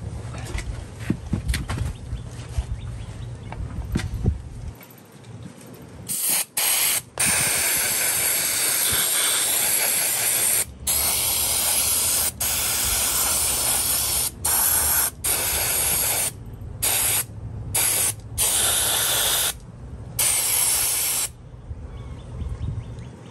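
QC electrical contact cleaner sprays onto a vintage Milwaukee impact gun in a series of close, loud aerosol hisses, some long and some short, separated by brief gaps.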